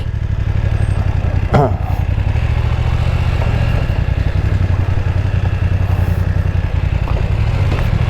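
A BMW F900XR motorcycle is ridden at a steady pace, its engine a loud, constant mid-pitched drone mixed with wind rush and a brief clatter, and no one speaks over it.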